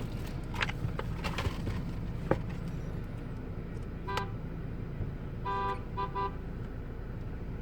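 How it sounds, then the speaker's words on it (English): A car horn honks outside, faint and distant, in a few short toots over low steady background noise with no talk. "Somebody's honking for no good reason."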